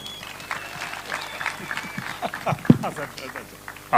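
A crowd at an outdoor registration event for security guards breaks into scattered applause under ongoing talk, with clapping rising and falling unevenly and a few louder bursts nearby.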